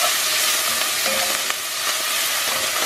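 Garlic and onions sauté in a pan, a steady close sizzle with soft scraping as they are stirred, no voices over it.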